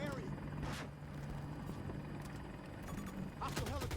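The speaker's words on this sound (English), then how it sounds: "Enemy helicopter spotted in your area." A helicopter in the shooter game Battlefield 2042 drones steadily under a dense, noisy game mix, with brief bursts of action and in-game voice chatter over it.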